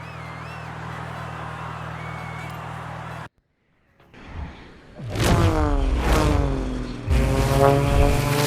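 In the Forza Horizon racing game, propeller aircraft roar past close by. The drone breaks off into a brief silence, then loud sweeping flyby whooshes rise and fall with droning engine tones, with game voices nearby.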